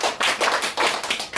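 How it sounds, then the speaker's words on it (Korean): Hand clapping during a church sermon: a few quick bursts of claps in an irregular rhythm, fairly close and moderately loud, with no talking over them. "박수."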